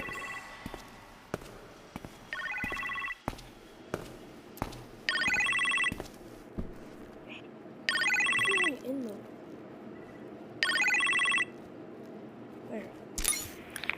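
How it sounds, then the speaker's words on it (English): Phone ringing in the Iron Man VR game, with repeated short electronic ring bursts separated by pauses, alongside clicks and thumps of in-game movement. "You appear to have a phone call in the kitchen, sir."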